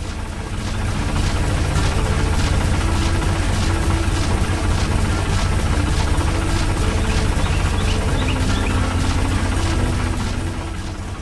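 Factory machinery running in an animated cartoon, a loud, constant low mechanical drone with rhythmic thrumming throughout, no voices.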